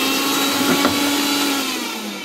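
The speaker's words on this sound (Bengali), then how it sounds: "ব্লেন্ডার করতেছে" A blender runs steadily at close range, a loud continuous whirring drone that fades slightly toward the end, while fish is marinated and goat meat is prepared for a picnic meal.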